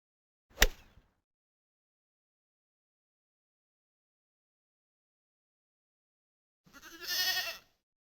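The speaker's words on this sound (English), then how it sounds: "Why are there so many sheep?" Two separate sounds over near silence in a golf puzzle video game: a short sharp pop at the start, then a single sheep bleat near the end.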